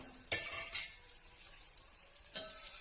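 Green chili paste is stirred into a pot of tamarind leaf dal, with a faint simmering hiss and two sharp scrapes of a spoon against the pot set far apart.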